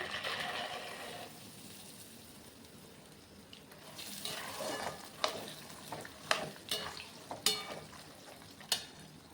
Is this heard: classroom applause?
no